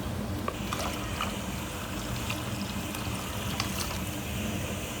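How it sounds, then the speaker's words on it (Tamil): About one litre of water is poured into a pot of goat trotter soup, a continuous close splashing trickle with faint clinks, steady and moderately quiet, with no speech. "இதில் தண்ணி ஊற்றி வேக விட்டுறலாம். நான் 1 லிட்டர் தண்ணி ஊற்றுறேன்."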